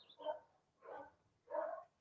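Dogs bark in the distance, three muffled, evenly spaced barks with quiet pauses between them.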